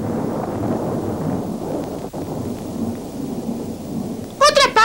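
Steady rain and rumbling thunder roll along at a loud, even level for several seconds. A voice cuts in briefly at the very end.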